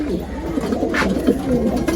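Teddy or Haifa pigeons coo in a loft, low throaty calls repeating steadily and close, with a brief brighter flutter or rustle midway.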